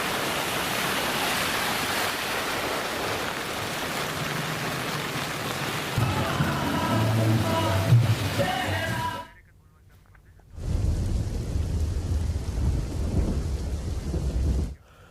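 Heavy monsoon rain in Gujarat pours in a dense, continuous hiss with low thunderous rumble underneath, broken by a short near-silent gap midway, and a voice briefly surfacing over the downpour.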